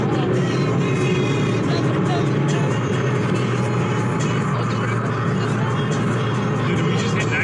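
A Ford Focus ST driven at high speed, giving a steady, loud rush of engine and road noise heard from inside the car, continuous and unbroken for several seconds with no one talking.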